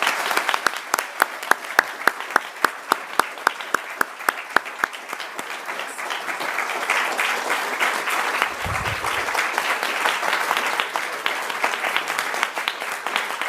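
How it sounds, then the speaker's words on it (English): Audience applause at a students' union excellence awards ceremony, opening with distinct, steady claps that build into dense, sustained clapping from a large crowd and carry on throughout without fading. "could I get a huge round of applause, please"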